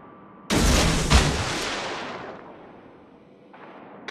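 Warship guns in World of Warships let off a loud, sharp salvo at a target: a sudden blast, then a second crack about half a second later, and a long rumbling decay. A faint thump follows near the end.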